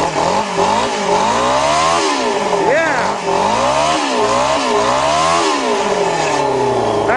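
A motorcycle engine fitted to a dune buggy revs hard from cold on a farm, climbing and falling in repeated loud, close throttle bursts over a steady idle, with voices talking over it.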